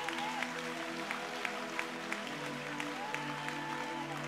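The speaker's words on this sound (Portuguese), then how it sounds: "Se é para Ele, aplauda glorificando." A church congregation applauds in praise, with scattered sharp claps over sustained organ-like tones and a murmur of voices in the background.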